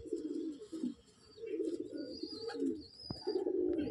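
Andhra breed pigeons coo in low, throaty rolling phrases close by, several bursts in succession with short pauses, a faint chirp above.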